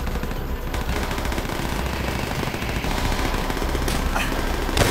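Sustained, dense automatic gunfire from Call of Duty: World at War, loud and continuous throughout, with overlapping bursts and no break.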